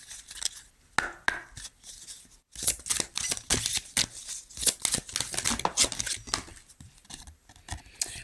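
Tarot cards shuffled and drawn by hand, a busy run of crisp slapping riffles and flicks close up, with a brief pause partway through.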